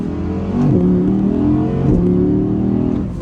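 An Audi R8 V10 sports car engine revs loud and close, climbing in pitch through a couple of gear changes as the car accelerates hard, with no talking.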